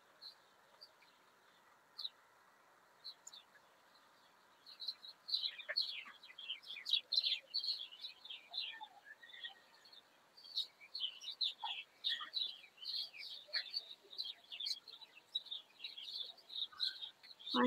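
Many small birds chirp and tweet busily outdoors, starting faintly and swelling into a dense, overlapping chorus of sharp calls from several directions, with no talk.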